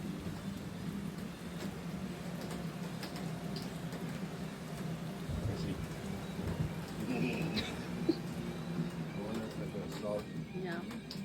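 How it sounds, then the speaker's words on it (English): Rain falling steadily around a bamboo house in Sidemen, Bali, a continuous hiss with scattered drips, heard at moderate level with low rumble and faint background sounds. "The rain started just as we waited for our mini drone shoot"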